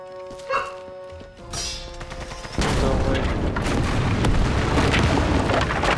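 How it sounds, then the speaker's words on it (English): A grenade explosion in Sniper Elite 5 co-op, a sharp blast followed by a loud, sustained roar of debris and rumble that persists to the end of the clip. "I feel like a grenade got thrown"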